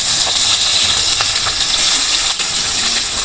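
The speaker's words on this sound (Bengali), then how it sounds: "এখন আমি পেঁয়াজটা ভেজে নেব।" Chopped onion frying in oil in a wok produces a loud, continuous close hiss, dotted with small crackles and light pops throughout.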